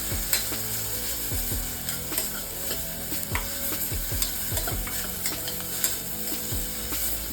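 Chilli powder, turmeric and garam masala frying in a pan for a potato and drumstick bhaji, with a steady sizzle under repeated scraping strokes of a stirring spoon, close and continuous.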